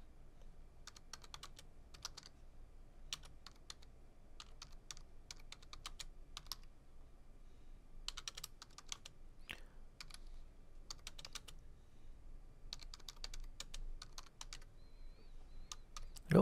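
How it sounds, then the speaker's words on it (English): A physical computer keyboard is typed on in bursts of quick, crisp key clicks with short pauses between runs. The sound is close but faint, and no voice is heard. "I'm going to use a physical keyboard."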